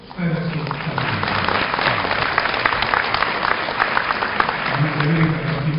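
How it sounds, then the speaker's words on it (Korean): Audience applause at a 2012 academic-year university graduation ceremony, steady clapping filling the whole span at even loudness, with a voice speaking over it. "축하의 박수 부탁드립니다."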